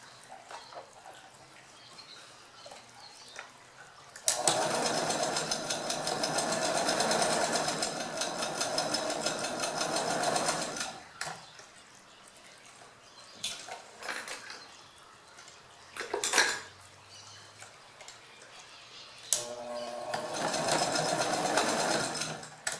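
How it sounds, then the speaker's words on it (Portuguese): A sewing machine runs a zigzag seam along the edge of a fabric cosmetic case, with elastic near the seam, in long steady bursts of rapid stitching separated by short pauses and light handling noises. "E você vai passar um zigue-zague aqui na beiradinha pra fixar."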